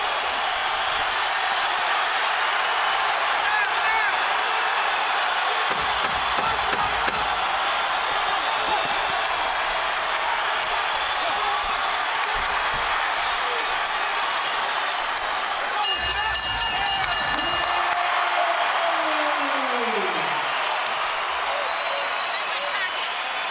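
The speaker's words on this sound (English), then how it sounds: "crowd rises with 30 seconds to go, trying to cheer the hero on" Boxing arena crowd roaring in the final 30 seconds of a Miguel Cotto vs Sadam Ali fight, a steady loud wash of cheering throughout with a ringside commentator talking over it.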